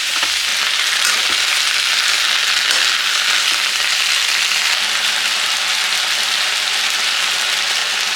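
Ivy gourd stirred with salt and turmeric in a hot pan, a constant bright sizzle and frying crackle with faint scraping of the spoon, close and steady throughout.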